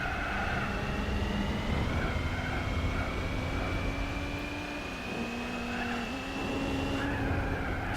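A V8-powered SUV in Gran Turismo 4 drives steadily with a sustained engine drone, its pitch holding fairly even with small dips around gear shifts, moderately loud and alone.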